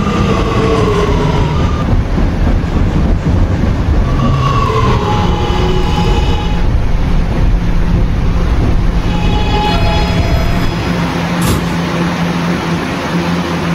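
An R211A subway train in a Roblox game, an R train running via the N line toward Ridgewood Island, gives a steady, loud rolling rumble with faint clickety-clack and a brief high squeal near the end.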